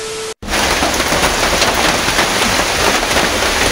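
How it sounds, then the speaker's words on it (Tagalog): Steady rain falls close by in a constant hiss of drops hitting surfaces, briefly cut off at the very start before continuing unbroken without any voices. "Karon guys, kay ni ulan."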